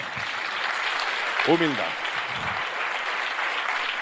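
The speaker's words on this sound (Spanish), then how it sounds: "Dele un aplauso a Jesús, por favor." Audience applause fills a church service, a broad steady clapping wash sustained throughout, with a voice briefly speaking over it.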